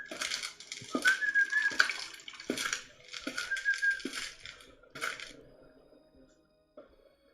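A water cooler sound effect plays as a clicked object on an interactive 3D office website: glugging bubbles and splashy trickles in a few short bursts, fading to quiet at the end.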